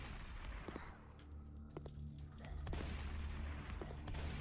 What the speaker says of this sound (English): It is a shotgun. It doesn't really have much kick.